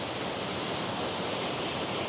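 A small river in Kenya's Ruskebe Waterfalls area near Londiani, Kericho county, flows into a waterfall, a continuous broad rushing roar, close and steady, with no voices.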